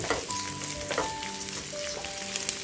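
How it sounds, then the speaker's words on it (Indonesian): Anchovies and white pepper sizzle steadily in a pan with ginger and shallots, a continuous close crackling fry with faint stirring scrapes. "Tumis sampai itu bilis jadi rangup-rangup."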